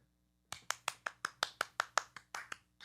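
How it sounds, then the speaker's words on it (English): A band's audience claps, about a dozen distinct, fairly quiet hand claps in a steady rhythm, coming after a silent start. "It was an applause."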